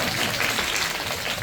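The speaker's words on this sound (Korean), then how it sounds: "한 박수 부탁드립니다." Audience applause at a film screening Q&A for the Korean film A Tale of Two Sisters, steady dense clapping filling the room for a short burst without talk.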